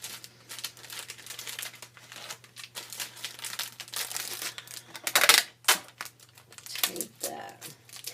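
Tape being pulled and stuck down on a candy package, making close crinkling and rustling with a few sharp rips and crackles, while someone talks softly.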